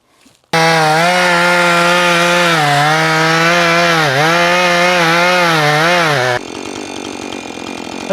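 A chainsaw roars to full throttle close by and cuts steadily into a tree for several seconds, its pitch dipping under load, then drops to a lower idle.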